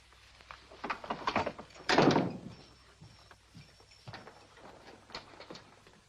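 In an Old West setting, a wooden door is pushed shut with a heavy thud, set among scattered clunks and rattles like a bolt or lock being worked, fairly close with no talking.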